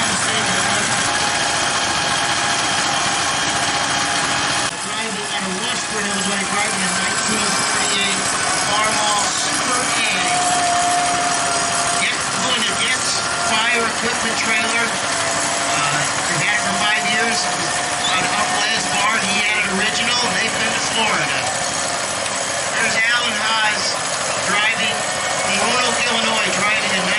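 An early-1900s horizontal Elmer Blunier engine runs steadily at an old threshers show, its continuous mechanical drone under a busy outdoor crowd with voices talking throughout.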